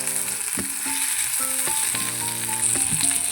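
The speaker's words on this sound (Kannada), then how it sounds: "ಸ್ವಲ್ಪ ಕಾಯಿ ಹಾಕ್ಕೊಂಡು ಫ್ರೈ ಮಾಡ್ಕೊಳ್ಳೋಣ." Chana dal and dried coconut frying in oil for sambar, a close, steady sizzle with scraping stirring strokes and light clinks of a spoon against the pan.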